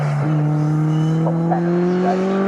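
Classic race cars, including an MGB Roadster and a Lotus Cortina, race at Snetterton in a CSCC K Series event. A steady, loud engine drone rises slowly in pitch throughout, with brief higher whines from passing cars.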